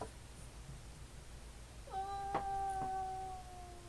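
A single drawn-out indoor meow from a cat, clear and moderately close, rising over a low room hum and faint background sounds, with no one talking during it.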